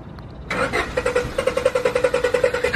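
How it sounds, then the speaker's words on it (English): A car engine cranks repeatedly without catching, a loud rhythmic starter whirring in close pulses that begins abruptly and continues to the end. "Did his car not start?"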